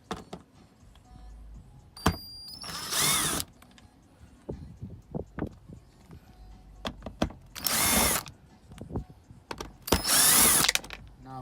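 Short bursts of a power screwdriver backing out small silver screws on a 2009 Audi A3 8P door panel, three whirring runs between quiet clicks and handling noises, close by.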